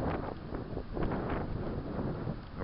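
Blustery wind on a beach on Perdido Key buffets the microphone with a continuous rough roar that rises and falls in gusts.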